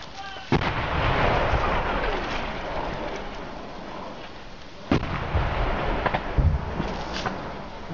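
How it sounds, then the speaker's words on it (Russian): Artillery fire and explosions ring out during fighting near Nikishino, with two sharp blasts a few seconds apart and rumbling aftershocks, heard from a moderate distance over steady outdoor background noise. "Взрыв."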